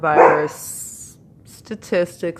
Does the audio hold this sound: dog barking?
yes